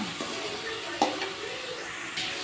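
Turkey berries (sundakkai) sauté in a pan with a faint, soft sizzle, broken by a few light scraping stirs and a sharp clink against the pan near the middle.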